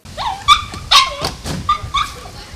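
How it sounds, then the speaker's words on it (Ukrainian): Dogs brought in for a rabies vaccination, including a ten-year-old and a three-year-old, give several close, loud yips and whimpering barks in quick succession over a couple of seconds. "Десятирічну собаку Шакіру і трирічного песика Баріка привели на щеплення проти сказу"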